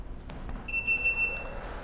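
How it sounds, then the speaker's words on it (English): A short run of three high-pitched electronic initialization beeps from a battery charger powering up sounds close by over a faint background hum. "When you hear those 3 initialization beeps, that tells you that the charger is on and ready to go"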